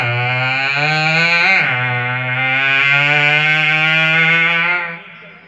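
A mimic performer at a youth festival imitates a motorbike with a sustained buzzing drone, rising briefly then holding steady before trailing off, loud and close.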